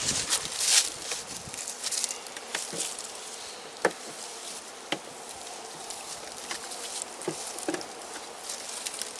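Honey bees buzz around an open hive as full frames of capped honey are lifted out, a steady close swarm hum with scattered sharper buzzes and occasional light knocks and handling sounds, no talking.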